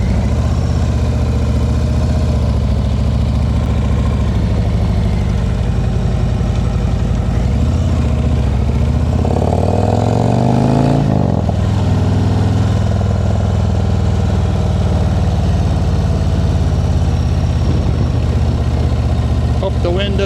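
A motorcycle engine runs steadily while being ridden, a continuous low rumble with wind noise that rises briefly midway, and a rider talks over it throughout.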